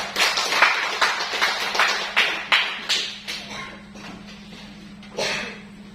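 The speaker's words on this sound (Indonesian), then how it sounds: "berikan tepuk tangan dulu untuk yang tampil depan ini" Applause from a classroom audience for a group that presented in a mathematics lesson: bursts of hand clapping rising and fading in waves, dying away toward the end before one last short swell.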